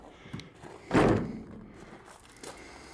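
The door of a 1973 Dodge, rehung on junkyard hinges, swings shut with a single solid thump nearby, followed by a fading rattle and quiet shuffling.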